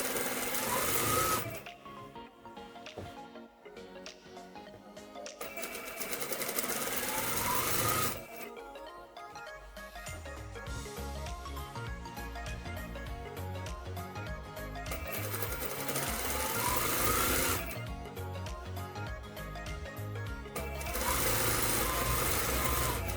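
Sewing machine stitching the waistband of a flared skirt, rapid mechanical stitching in several runs separated by brief pauses, close and clear.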